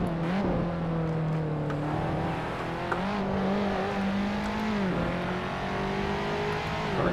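A race car engine in the Assetto Corsa racing game drones loud and continuous during a career-mode race, its pitch rising and dipping with throttle and gear changes over the lap, with no talking.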